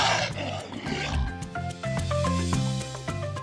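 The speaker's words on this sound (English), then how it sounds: "Yes, a Komodo dragon." Komodo dragon giving a short, rough, growling hiss mixed with low guttural rumbles and tonal grunts, close and moderately loud, lasting a few seconds.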